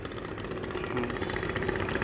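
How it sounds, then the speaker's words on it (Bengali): A passenger trawler boat's engine chugs steadily on the Buriganga river as it leaves Kamrangirchar, a continuous mid-pitched idling drone with rhythmic pulsing and open-air background. "কামরাঙ্গি চর থেকে ছাড়ছে ট্রলারটা"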